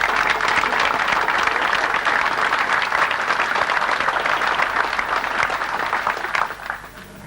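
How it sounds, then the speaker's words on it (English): An audience at a Littleport Harley 2003 memorial gathering applauds during the speeches, a dense, steady crowd clapping that holds strong for about six seconds before thinning and fading at the end. "give them all a round of applause"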